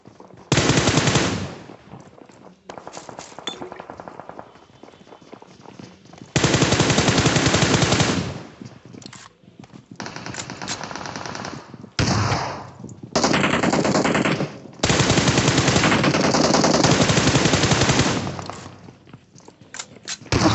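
Gunfire in PUBG Mobile played on an ASUS ROG Phone 2, long loud bursts of rapid automatic fire alternating with shorter volleys and brief pauses, close and harsh throughout.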